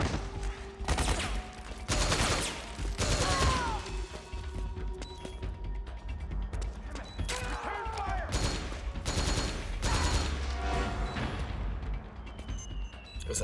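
Gunfire in a shooter video game: loud, rapid bursts and fusillades of shots crack repeatedly in clusters with short gaps, some heavier booming impacts among them, with no voices.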